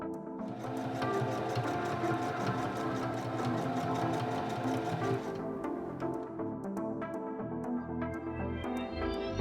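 A sewing machine topstitches around the front edge of a fabric hood, a fast continuous mechanical whirring hum with rapid needle ticking, close and steady, slowing near the end, with no speech.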